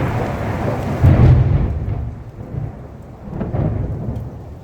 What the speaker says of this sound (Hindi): जब बिजली कड़क रही है,